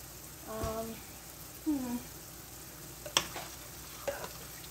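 Peppers and onions sizzle in a pan with a soft steady frying hiss, broken by occasional clinks and stirring sounds while a person speaks nearby.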